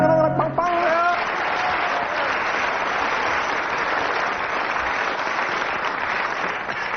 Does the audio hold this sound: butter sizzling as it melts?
no